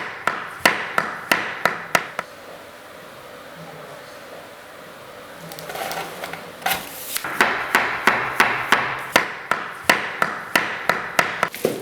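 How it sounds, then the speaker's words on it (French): A hammer knocks a tapping block against snap-together laminate flooring planks, giving sharp close wooden taps in quick steady runs, then a short pause before another rapid series of strikes. "relie les deux en tapant avec un marteau et"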